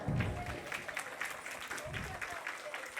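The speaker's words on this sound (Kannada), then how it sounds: "ಈಗ ನನ್ನ ಸೀನಿಯರ್ ಸ್ಟೂಡೆಂಟ್ ಸಂಧ್ಯಾ ದೊಡ್ಡ ಚಪ್ಪಾಳೆ ಹಾಕಬೇಕು." Applause fills a dance school gathering for senior dance student Sandhya, a quiet, steady spread of many hands clapping, with voices murmuring underneath.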